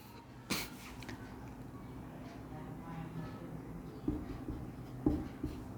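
A teacher writes notes during a Hindi-medium class 10 science lesson, producing a steady faint scratching with a few sharper taps and knocks, close and quiet against room noise, no talking.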